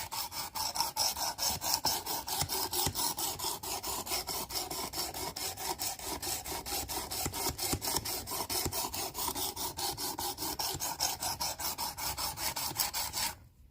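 Steady, rapid rasping strokes of a knife blade on a Work Sharp Precision Adjust WSBCHPAJ-I sharpener, repeated evenly for about thirteen seconds, fairly loud and close, then stopping abruptly.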